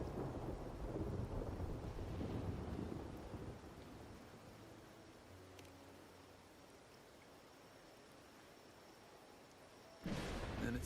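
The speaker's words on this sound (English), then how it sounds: "are you simply passing the time until the rain ends?" Steady rain hiss with low rumbling thunder in the Wuthering Waves video game, a loud rolling swell in the first seconds easing to a softer wash, then a sudden louder burst near the end.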